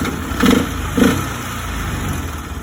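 A Polaris Ranger engine idling steadily after a new throttle position sensor install, close and loud with a constant mechanical drone and two brief bumps in revs early on.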